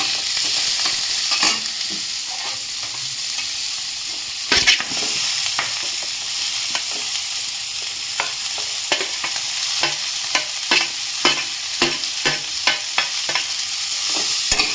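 Broccoli frying in a pan for cream of broccoli soup, a continuous loud sizzle broken by frequent sharp clicks and scrapes of a spoon stirring against the pan.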